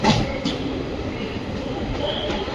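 Kerala Jan Shatabdi Express running with an old ICF coach, a loud steady rumble of wheels on track heard from inside the carriage, with faint clacks and a brief squeal.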